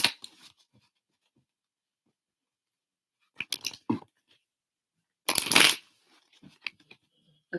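Tarot cards shuffled by hand in a quiet room, coming as a few separate short flurries of crisp riffling and slapping with near-silent gaps between them.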